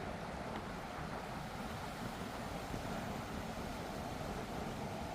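Strong wind gusts steadily beside open water, a dense, even rushing roar buffeting the microphone throughout, with no voices.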